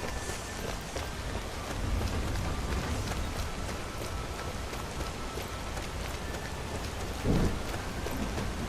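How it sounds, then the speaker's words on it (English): Rain falls in the video game Skyrim as a dense, steady hiss of drops with a low rumble beneath, constant and close, with one brief louder thump late on. "seeing it's a rainy day"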